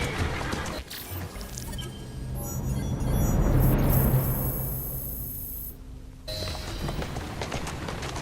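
Rhythmic horse hoofbeats clop along with a rising whoosh of motion, peaking midway then easing, Assassin's Creed Syndicate game effects layered over the galloping.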